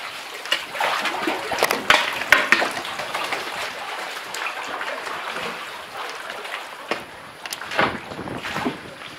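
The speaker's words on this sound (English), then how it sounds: "The waves are tossing me around a little bit." A canoe on winter seas among the Hopewell Cape rocks, with choppy waves slapping and splashing against the hull in irregular bursts, wind noise throughout and a few sharper knocks near the start.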